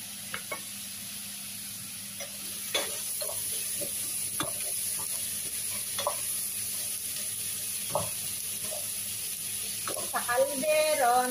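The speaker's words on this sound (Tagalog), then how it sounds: "naglagay tayo ng mantika, sibuyas at bawang. Igigisa natin, papupulahin." Onion and garlic sautéing in oil for a mung bean dish, a steady soft sizzle with scattered stirring knocks and clinks, alone without talk.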